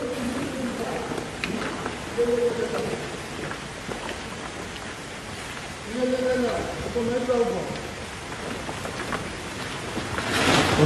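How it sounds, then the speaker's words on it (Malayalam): Heavy rain pours steadily during a storm of strong wind and rain in Kannamangalam. A dense, constant hiss of rainfall runs throughout, and faint voices can be heard under it. "മഴ തുടരുകയാണ്."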